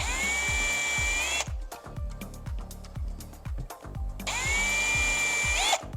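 A power drill whirs in short bursts, its motor revving up and winding down several times while boring into wood, loud and close.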